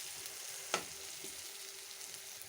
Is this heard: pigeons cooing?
no